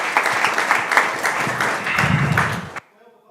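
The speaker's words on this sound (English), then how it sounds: "Can we have a round of applause for Charles?" An audience applauding at a city council meeting, a brief round of dense, fairly close clapping lasting under three seconds before cutting off abruptly into near silence.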